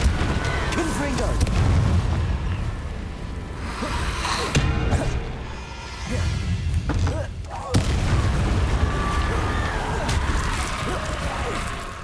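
Explosive blasting spells going off in the Hogwarts Legacy video game, heavy booms and bursts repeating over twelve seconds amid game action, with someone talking throughout.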